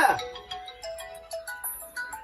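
A mobile phone ringtone plays a bright repeating melody of short, evenly spaced chiming notes, fairly close and clear, with a burst of voices near the start.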